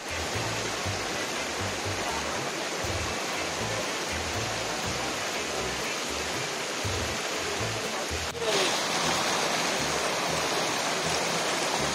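Water pouring down a waterfall fed from a dam, a steady broadband rush that stays constant and close throughout, briefly swelling louder near the end.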